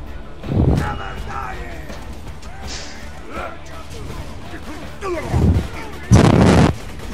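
Gunfire at a boss in Borderlands 2: a few loud, separate shots ring out at irregular intervals, with a final heavy burst near the end, while a voice talks in between.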